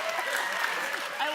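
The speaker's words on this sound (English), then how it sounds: "love that guy's clapping" Studio audience clapping at a Steve Harvey talk show, a dense, even wash of applause mixed with crowd murmur, sustained throughout the short moment.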